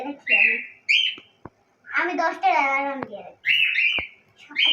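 A small pet bird chirps in short, bright bursts close by, interleaved with a person speaking.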